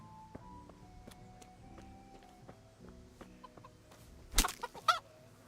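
Rooster clucks in Kingdom Come: Deliverance, a few short calls over a steady in-game ambient bed with music tones, ending with two louder, sharper bursts near the close.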